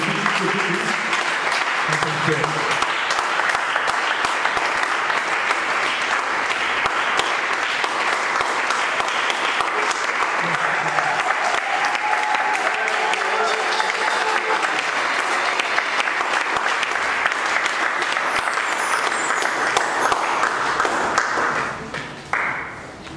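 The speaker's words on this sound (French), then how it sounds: "Nous le recevons avec de l'acclamation" A church congregation breaks into sustained, loud applause and acclamation that carries on steadily for over twenty seconds before tapering off at the end, with voices mixed into the clapping.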